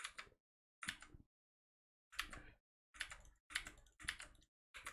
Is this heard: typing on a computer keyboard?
yes